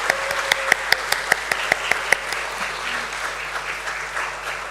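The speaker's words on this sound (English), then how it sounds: "let's have a huge round of applause for Premier Energies Limited" Audience at a stock exchange listing ceremony for Premier Energies Limited claps, with a few sharp, evenly spaced loud claps up front that blend into a softer, sustained round of applause from the room.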